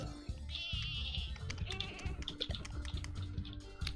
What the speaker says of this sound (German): Da ist dieses blöde Schaf schon wieder.